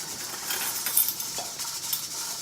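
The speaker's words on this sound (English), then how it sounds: "Whisk those together." Flour and baking powder whisked together in a bowl for a Tennessee peach pudding, quick light scraping and tapping of a whisk against the bowl, close and continuous with small clinks.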